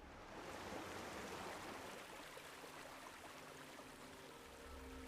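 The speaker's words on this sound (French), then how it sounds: "la petite cascade" A soft, steady rush of a small video game waterfall runs continuously at low volume, like a small cascade heard from nearby.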